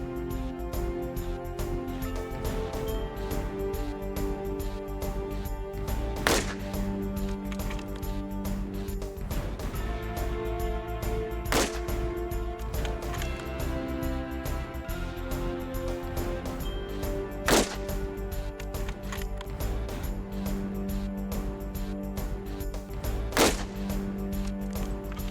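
An Accuracy International rifle fires four separate shots at an indoor shooting center, each a sharp crack several seconds apart, over a steady hum of background noise.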